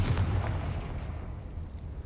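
A Confringo fire spell explodes in the Hogwarts Legacy video game, a deep booming burst that rumbles low and loud, then trails off into a dull, steady roar.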